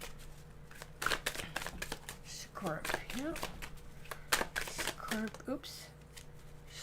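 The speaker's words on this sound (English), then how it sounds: "Stop shuffling, cat." A cat scatters a tarot deck, making soft riffling and flicking card sounds in quick irregular bursts, close by, under a voice.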